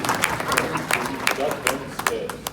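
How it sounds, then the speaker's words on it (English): Clapping from an audience at a finance ministry meeting on the return of the Zimbabwe dollar, scattered distinct hand claps rising and falling with people talking over them. "Let's develop a culture of clapping hands,"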